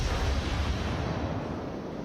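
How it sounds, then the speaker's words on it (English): Naval gun salvo from the cruiser Edinburgh in World of Warships, a sustained deep rumbling boom that fills the low end and rolls on steadily for about two seconds without fading. "here comes the first salvo"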